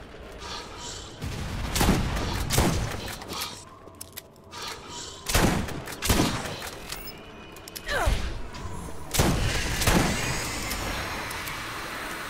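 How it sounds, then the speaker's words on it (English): Grenade explosions and gunfire in the Borderlands shooter game, a string of heavy booms roughly every two to three seconds over a steady rumble of shots and mechanical clatter, loud and close throughout. "They're throwing grenades at me and all sorts."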